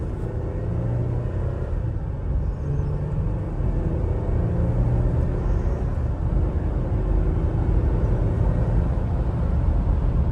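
A Jeep on 35-inch tires without recalibration drives along, giving a constant loud low rumble of engine and road noise heard from inside the cabin, with no talking.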